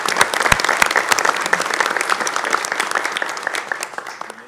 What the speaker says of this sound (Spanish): Luego les pido un aplauso para nuestro gobernador.